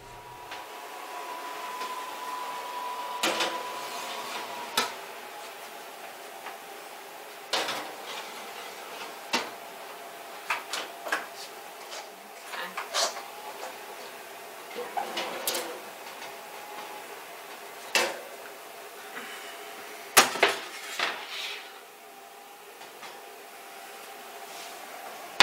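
An oven door and baking pan being handled while steak burritos go into a 400-degree oven: scattered clunks, scrapes and metallic knocks at irregular intervals over a quiet background.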